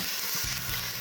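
Kimchi, scallions, garlic and sesame oil frying in a roll pan, giving a steady close-up sizzle with a brief stir or scrape partway through and no talking.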